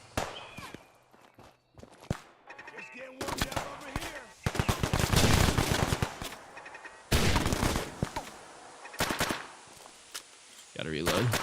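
Enemy gunfire in the video game Fallout 4: bursts of rapid automatic shots and single cracks, loud and close, separated by quieter gaps, with a player talking over parts of it.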